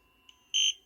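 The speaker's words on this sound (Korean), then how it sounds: "전원 들어오는 소리 나고요." FPV goggles power on: a short faint electronic blip, then a louder high-pitched beep lasting about a fifth of a second over a quiet background fan hum.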